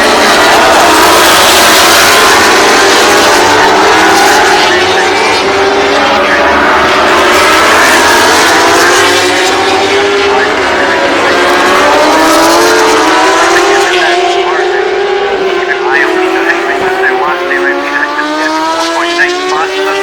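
British Superbike race motorcycles at Oulton Park, including a BMW S1000 RR, a Honda Fireblade and a Ducati, scream past loud and close, engines rising and falling through gear changes, with a commentator talking over them.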